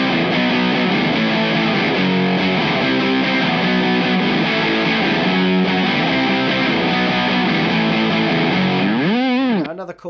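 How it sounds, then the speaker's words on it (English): Loud, heavily distorted electric guitar playing a sustained, driving riff with thick harmonics, ending in a bending, warbling note that cuts off abruptly. "Take that off, put the distortion on."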